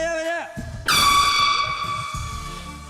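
A horn honks in a floor-breaking party video game, one long loud sustained blast starting about a second in and holding to the end, with excited French-speaking players talking and shouting before and under it.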